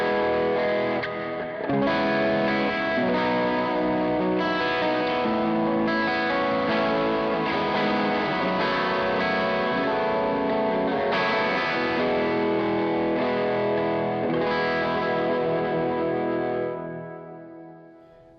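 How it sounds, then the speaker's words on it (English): Electric guitar played through a Sound Shop Co. Atlantis reverb pedal, sustained chords washed in a very wet, shimmering reverb that rings continuously and then fades away at the end. "the Atlantis is such a cool reverb that is just super wet without getting in the way of your playing"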